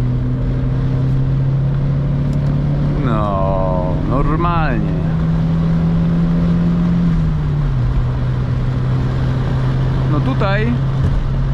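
A 1992 Volvo 940 with a 2.3-litre engine drones steadily from inside the cabin at autobahn speed, its tone easing slightly lower partway through, while someone talks briefly over it.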